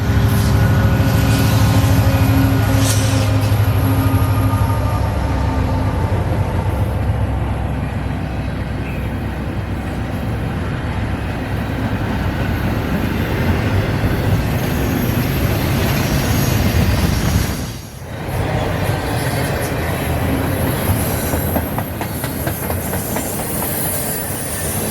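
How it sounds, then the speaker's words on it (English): A southbound Norfolk Southern intermodal freight train passes near Araby, Georgia, with a loud, sustained rumble and the rhythmic clatter of wheels and cars rolling by for the whole stretch, with no voices. "a southbound NS intermodal that I never got the symbol of would show up out of nowhere."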